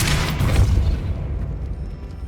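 A Depulso spell cast in the video game Hogwarts Legacy lands as a loud, deep blast with a booming burst, then a rumbling decay that fades over about two seconds, with no voices.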